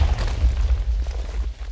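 A Chaos Cannon explosion in the video game Artilea, heard as a loud, continuous rumbling boom with heavy low-end weight that rolls on for the whole moment without a break.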